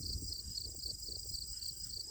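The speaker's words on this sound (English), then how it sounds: "I hope you can all hear the crickets." Crickets chirp steadily in a pasture field, a continuous high shimmering trill over faint low rustling, with no voices.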